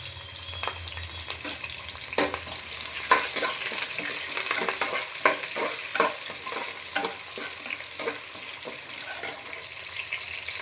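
Onions, garlic and curry leaves sizzle in a hot pan with cumin and fenugreek, a steady close frying hiss broken by repeated scraping stirs, with no talking.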